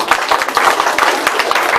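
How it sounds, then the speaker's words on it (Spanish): Church congregation clapping along in a lively, even rhythm during worship, loud and close, with sharp hand claps repeating roughly every quarter second. "esas palmas"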